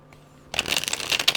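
Tarot cards are shuffled by hand close up: after a quiet moment, a sudden run of rapid, crisp papery riffling and slapping sounds continues steadily to the end.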